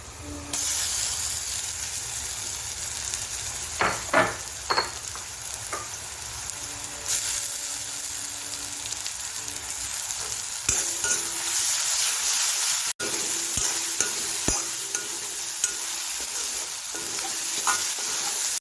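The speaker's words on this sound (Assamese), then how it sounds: "এতিয়া এইখিনি অকণমান ভাজিব লাগিব।" Ginger-garlic paste sizzles and hisses steadily in a hot pan, with repeated scraping stirs of a utensil and no talk.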